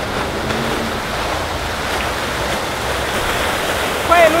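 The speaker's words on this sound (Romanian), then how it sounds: "mai curge și apa asta, ca să știi" Running water gives a steady broad rushing wash mixed with wind noise on the microphone, fairly loud and continuous, with a brief bump near the end.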